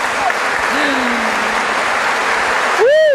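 A crowd at a Mass in the Basilica of Itatí applauds loudly and steadily, a dense wash of clapping that continues throughout, with a voice rising briefly above it near the end.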